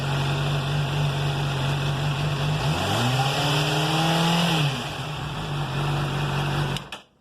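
A 2007 Honda CBR 600RR engine with a faulty tensioner idles steadily, briefly rising in pitch as it revs, with a persistent mechanical whine and ticking over the rumble before it cuts off.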